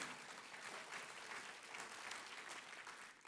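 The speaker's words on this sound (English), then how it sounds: "yeah, you can clap for that" Audience applause at a Georgia Faith & Freedom Coalition political gathering, a steady wash of clapping from a crowd that holds evenly for about three seconds and then starts to thin out.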